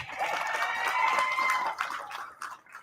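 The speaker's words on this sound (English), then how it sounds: "Another round of applause for our Student Council members." An audience claps for Student Council members at an 8th grade graduation ceremony, a sustained wash of applause that swells and then tapers off toward the end.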